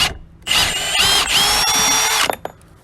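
Power drill backing a lag bolt out of wooden hockey boards: one sustained, loud whirring burst of nearly two seconds with a rising whine, then a couple of short trailing clicks, with no talking.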